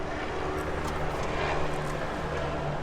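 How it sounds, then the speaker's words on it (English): Fire helicopters pass overhead, a steady broad roar of rotors and engine heard from a distance, continuous and fairly faint throughout. "Pause for the fire helicopters."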